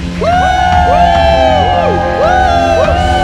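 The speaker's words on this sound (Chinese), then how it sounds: "有一个呼喊的声音。" A church congregation at a joint Sunday worship service shouts and cheers for Jesus, with many loud overlapping whoops and rising and falling cries rolling on without a break.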